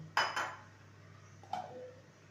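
A metal lid lifted off a pan of fried chichinga (snake gourd): two quick metallic clinks close together, a short pause, then a softer clank as the lid settles, close and alone.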